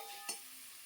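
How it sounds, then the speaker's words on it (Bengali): Potato curry being sautéed in a pan: a soft, steady sizzle with a single brief stirring scrape, heard alone. "এবার একটুখানি কষিয়ে নেব আলুর তরকারি ভালো করে কষানো হয়ে গেছে"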